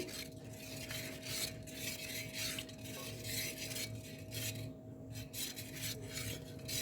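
Milk with sugar being mixed for a rose-syrup watermelon sherbet, a quiet, continuous rasping swirl of a spoon against a vessel, close but faint, with a low steady hum underneath and no talking.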